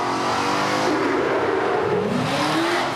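Racing drill truck running on its backup C truck motor at the Selden Invitational firefighters' drill, a loud continuous engine roar that rises in pitch as it accelerates through the whole stretch.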